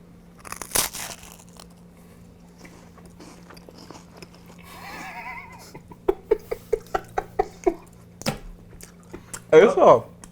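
A large cracker topped with apple smoked cheddar being bitten and chewed close up, a run of sharp crisp crunches in quick succession, with a short bite at the start and a final squishy chew, amid casual talk.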